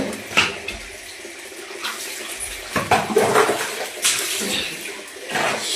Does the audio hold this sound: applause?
no